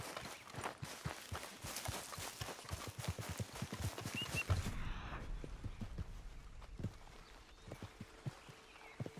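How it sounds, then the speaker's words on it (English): In the Western video game Red Dead Redemption 2, horse hooves clip-clop in a steady, quick rhythm close by, then the footfalls soften and slow to a quieter, sparser walk. "Oh, it's just the horse."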